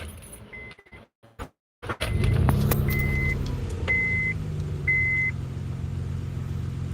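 A car engine with a vacuum leak at the intake manifold idles steadily up close after a few clicks and a brief silence, with a faint intermittent beep over the low rumble.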